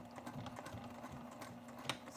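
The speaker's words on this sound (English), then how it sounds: "Just going to kind of backstitch over that area." A sewing machine backstitches through a bulky fabric seam with a narrow foot, a quiet steady run of rapid needle ticks with a slight hum underneath.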